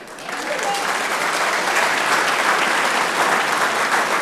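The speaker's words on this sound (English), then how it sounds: "How about a nice round of applause for Sal Scariano?" An audience at a Veterans Day gathering claps warmly for a veteran, a dense, continuous round of applause that swells quickly and holds steady at close range.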